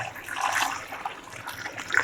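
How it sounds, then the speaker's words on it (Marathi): Water pours steadily into a pressure cooker holding washed potatoes in a home kitchen, a continuous close splashing and gurgling stream with no voices. "बघा मी आता ह्याच्यामध्ये पाणी टाकून घेते"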